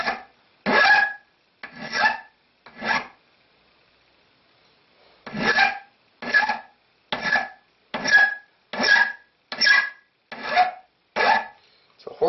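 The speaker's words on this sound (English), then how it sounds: "I am going to use just a simple, I think it's an 11-inch file" An 11-inch hand file rasps over a rifle scope mount screw in a run of about twelve harsh, even strokes, close and loud, with one pause after the first few strokes and no talking.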